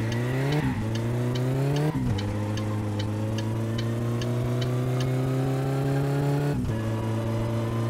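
Car engine from the driving game My Summer Car, a loud steady drone that climbs in pitch as it revs, dropping sharply at each gear change, with faint rhythmic ticking above.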